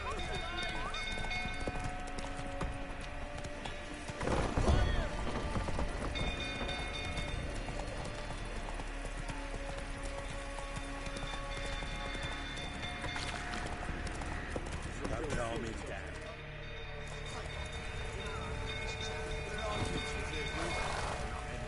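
Horse hooves clip-clop at a gallop in a video game, a steady run of hoofbeats that carries on throughout with occasional whinnies and talk over it.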